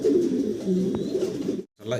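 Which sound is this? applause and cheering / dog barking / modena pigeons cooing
modena pigeons cooing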